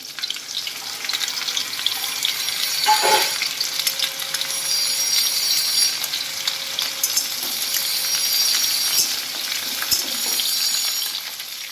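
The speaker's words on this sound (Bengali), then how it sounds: "এক একটা করে দেব আর একটু নেড়ে চেড়ে দেবো পটল ভাজাগুলো" Pointed gourd slices fry in oil for a mixed vegetable dish, with a loud, steady sizzle and occasional scraping as they are stirred in the pan.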